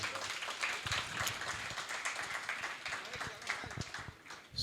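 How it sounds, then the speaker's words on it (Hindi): An audience at a Hindi poetry recitation event claps in a dense, continuous wash of applause, moderately distant and somewhat faint, sustained throughout without talk standing out. "मैं चाहता हूं एक बार आप लोग अपने सम्मान में ताली बजाइए।"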